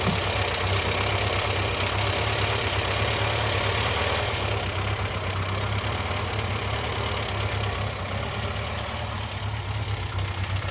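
Engine of a Morris Minor ratrod idling with a suspected exhaust leak, a steady, close low hum with a throbbing pulse and a hissy upper layer that runs unchanged throughout.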